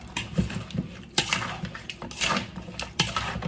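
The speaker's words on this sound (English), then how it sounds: "Get all that powder seasoning nice and stirred up" A metal spoon stirring powdered seasoning in a pot for curry goat, a close series of irregular clinks and scrapes against the pot, several sharp knocks spaced across a few seconds, with no talking.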